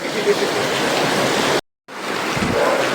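Heavy rain pours down steadily at an outdoor wedding turmeric ceremony, a dense, loud broadband roar that cuts out for a moment and then resumes just as strong.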